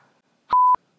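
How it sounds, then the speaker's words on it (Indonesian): A single censor bleep cuts in during an Indonesian interview: a steady, clean electronic tone lasting about a quarter second, loud and isolated amid near silence, with a faint click at the very end. "Di bip Bip mulu nih"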